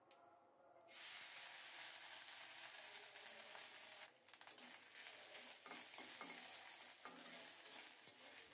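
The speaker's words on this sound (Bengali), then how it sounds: "নারকেলটাকে লালচে করে ভেজে নেব" Grated coconut frying in hot mustard oil with cinnamon, cardamom and cumin, stirred steadily; a loud continuous sizzle with scraping spoon strokes and clicks, briefly dipping midway before resuming, no voices.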